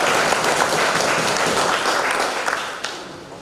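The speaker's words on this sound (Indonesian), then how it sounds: "Berikan tepuk tangan yang meriah." Loud, dense applause from an audience at a student presidential and vice-presidential candidate debate, sustained steadily and thinning slightly toward the end.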